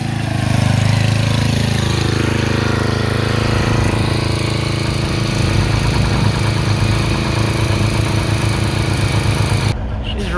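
A semi or dozer engine idles steadily after being restarted, a loud continuous low rumble throughout that cuts off sharply near the end.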